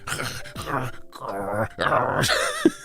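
A voice imitates an angry dog with drawn-out growling, whining tones in several bursts and brief pauses between them. It sounds close and fairly loud.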